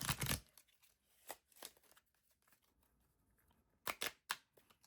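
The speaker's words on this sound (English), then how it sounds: "let me shuffle these cards up." A deck of cards is shuffled in a quiet room: a few brief, soft riffling bursts close by, separated by near silence.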